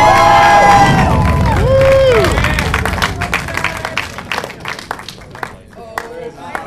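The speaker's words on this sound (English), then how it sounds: "Here we got some cheers coming up." A theater audience cheers and applauds as The Dark Knight Rises title appears on screen, loud crowd noise that swells early, then breaks into scattered clapping and whoops that fade out.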